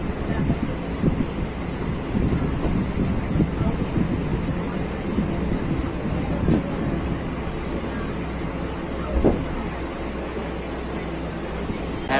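A Katwa–Howrah local train pulls out of Raihat station, its steady rumble and clatter of wheels on rail filling the scene with a thin high squeal running above, with wind buffeting the microphone throughout.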